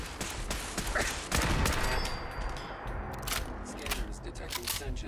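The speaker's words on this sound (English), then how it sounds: "That's a turret." An automated turret in the Fallout 4 video game opens fire, dense rapid gunfire bursts over a constant noisy game backdrop, with a few sharper shots standing out.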